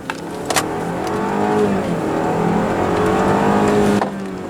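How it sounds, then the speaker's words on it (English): A 2019 BMW X4 xDrive30i in Sport mode accelerates hard with a loud, close engine roar that climbs in pitch through the gears, with brief shift breaks and a sharp drop near the end. "We'll try and accelerate the car. We're gonna put it in Sport and then downshifting."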